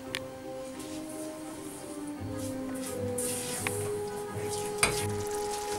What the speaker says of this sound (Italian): So it's boiling, let's add the spice.